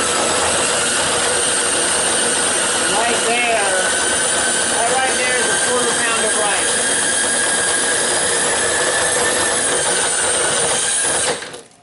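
Small motor driving a bicycle-based rice huller, running steadily at roughly 600 to 800 RPM: a loud, continuous whirring drone that holds for about eleven seconds and then cuts off abruptly, with a voice talking underneath.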